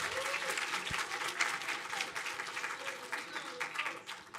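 An audience claps for students at a competition event, a dense, steady round of applause that tapers slightly at the end.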